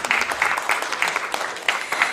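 An audience applauds a contestant at the Miss Twang & Twist 2022 pin-up contest in Nastola, a steady wash of many hands clapping at moderate distance, with a few sharper claps standing out.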